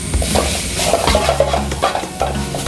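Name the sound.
soy sauce poured into hot pan, sizzling chicken noodles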